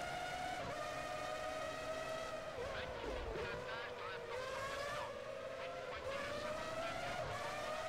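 High-pitched Formula One engines from the PS2 game Formula One 03 scream steadily at the European round, revving up and down through gear shifts as several cars race close together, loud and continuous with a voice talking over them.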